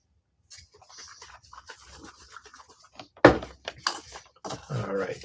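A toothbrush dipped into white water-based ink for splatter painting gives soft scratchy bristle sounds, with a sharp knock partway through and a few brief scrapes after.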